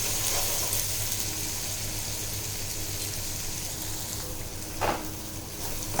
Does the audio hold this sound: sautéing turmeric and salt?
yes